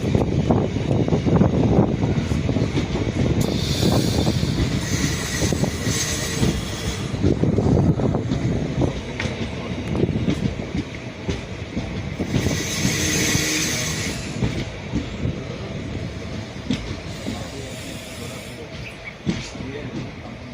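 A train runs on rails near Swamimalai station on a foggy day between Tiruchirappalli and Viluppuram, giving a steady, loud rumble of wheels and carriages with hiss and occasional squeal, and faint voices in the background.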